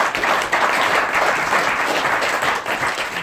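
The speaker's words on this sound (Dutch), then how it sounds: "een applaus lijkt me op zijn plaats in eerste instantie" Dense, steady audience applause fills the whole stretch at a Koetshuiscup cup draw event, loud and close with no pause.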